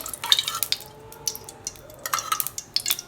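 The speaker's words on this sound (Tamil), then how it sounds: "கொஞ்சம் எண்ணெய் அதிகமாகவே ஊற்றிக்கணும்" Oil is poured into a kadai on a stove for anchovy dry fish thokku, heard as light, irregular trickles and drips with a few faint metallic clinks against the pan in otherwise quiet surroundings.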